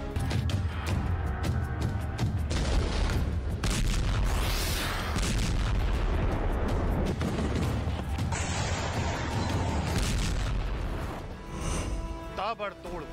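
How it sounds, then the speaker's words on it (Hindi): Heavy booming explosions and crashing blasts roll on continuously, loud and dense, with a voice speaking over the chaos. "जोरदार धमाके"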